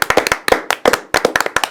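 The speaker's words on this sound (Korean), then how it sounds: "축하의 박수를 먼저 드리겠습니다" A few sharp hand claps in short bursts, close and dry, offered as congratulations on a Korean news talk show about record early voting turnout.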